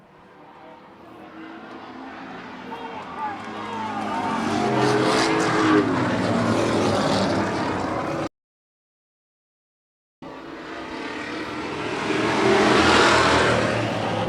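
Stock race cars charging through the final lap of a 2023 short-track race, engines roaring close and loud as they pass in a rising and falling sweep, with a brief cut to silence before another car surges by.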